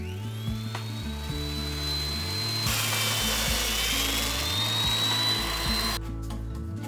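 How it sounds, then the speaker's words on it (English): A square chisel mortising machine cuts mortises in wooden columns for a large handmade woodshed, giving a steady, close motor whine with rough grinding cutting noise that shifts pitch as the chisel plunges, with no talk. "This work requires a square chisel machine."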